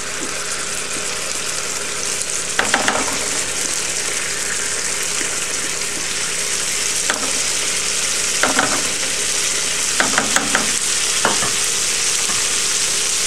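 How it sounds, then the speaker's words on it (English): Sriracha sauce hitting garlic browned in a hot pan sizzles loudly in a steady bright hiss, with a few sharp spattering crackles and stirring clicks scattered through. "So now we'll go ahead and add our sriracha sauce."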